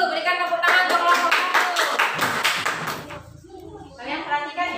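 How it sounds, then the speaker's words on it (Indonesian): A school class claps together in a burst of applause for a student group that fades out, followed by faint voices. "Berikan tepuk tangan untuk kelompok"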